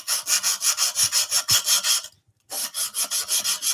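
Coarse abrasive rubbed over the corners of a wooden flower piece in fast, regular back-and-forth strokes, close and loud, with one brief pause midway before the rhythmic rasping resumes.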